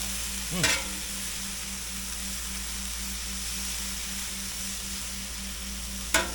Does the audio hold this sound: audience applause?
no